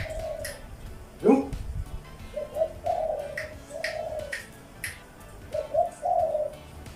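A dove coos in a series of low, rounded calls, repeated several times in groups, for a Thai guessing game that sorts coos as krua-ang or krua-kuk, with faint voices in the background.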